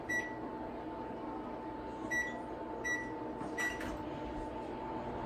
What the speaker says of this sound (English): right now I am melting some butter in the microwave